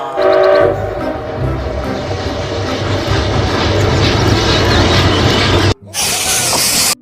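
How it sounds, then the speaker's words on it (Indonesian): A toy train circles its track with a continuous whirring rattle, loud and close, with faint tonal hums at the start and a brief cut near the end before the noise resumes. "Wah, kereta apinya mengitari mainan."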